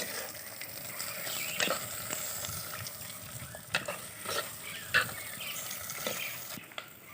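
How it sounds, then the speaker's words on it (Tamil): Onions sauté in a pan over a quiet, steady sizzle, with repeated spoon stirs and scrapes and a few light clicks, at fairly low level and without talk. "இப்போ வெங்காயத்தை வதக்கிக்கலாம்"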